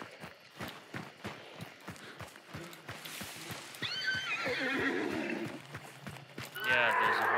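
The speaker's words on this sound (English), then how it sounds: "Yeah, there's a horse." In the Hunt: Showdown video game, a horse gives a loud, drawn-out whinny, then a second neigh, over rhythmic clip-clop hoofbeats that run through the whole stretch.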